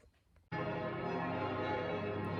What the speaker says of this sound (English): It's 4 o'clock in Switzerland, which means church bells.